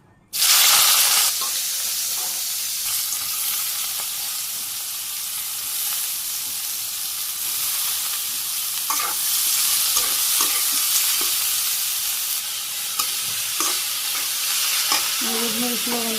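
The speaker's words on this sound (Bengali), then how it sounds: "এই যে করলা দিয়ে দিই," Bitter gourd hits hot oil in a wok in a Bangladeshi village kitchen, starting with a loud burst and settling into a steady, close sizzle for the whole stretch, with occasional stirring scrapes and clinks and no talking.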